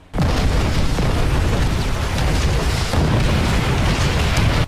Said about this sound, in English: is targeted by Japanese artillery that ejects us into the ocean